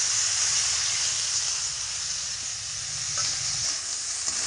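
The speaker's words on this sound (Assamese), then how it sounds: "আলুখিনি প্ৰায় কিমান মিনিট ফ্ৰাই কৰিব লাগিব 5 মিনিটমান এইখিনি ফ্ৰাই কৰিব লাগিব আৰু মছলাৰ লগত" Potatoes sizzle steadily in hot oil with spices for Bengali dum aloo, a continuous close, fairly loud frying hiss with no talking.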